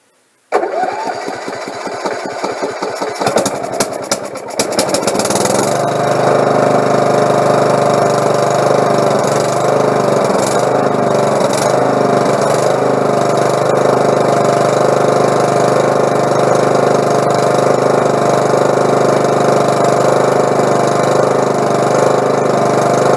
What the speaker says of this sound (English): it took me 20 minutes, and the motor starts right up.